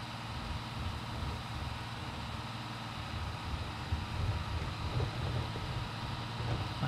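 A tractor engine in Farming Simulator 22 drones at a steady low rumble, quiet and even throughout with a slight rise near the end, and no talking over it.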